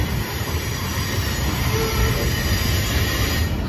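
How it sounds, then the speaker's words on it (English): A CSX M326 freight train rolls steadily past close by, with a Pacific boxcar among the cars; a continuous loud rumble of wheels on rail with faint squealing carries through without pause, and no voices are heard. "Pacific boxcar coming up right now,"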